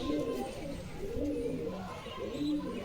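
Domestic pigeons from a sale collection in Beldanga give repeated low, rolling coos in a slow, regular rhythm at close range, with a faint voice underneath.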